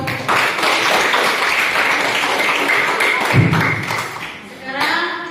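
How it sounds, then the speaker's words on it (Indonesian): Classroom applause for a student group after their presentation, steady clapping from many hands with a few louder thumps, voices mixed in throughout. "Baik, tepuk tangan buat kelompok."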